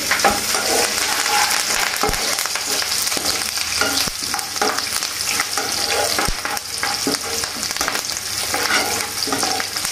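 Continuous loud sizzling of a tempering of garlic and curry leaves frying in a pan over low flame, with occasional clinks and stirring scrapes; no talking.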